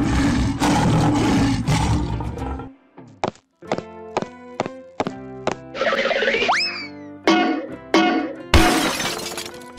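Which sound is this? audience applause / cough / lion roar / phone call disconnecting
lion roar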